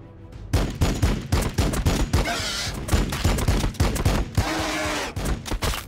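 Rapid, dense gunfire from Adepta Sororitas troops in Warhammer 40k Battlesector, a loud, continuous stream of overlapping shots and bursts with no pauses and no talking.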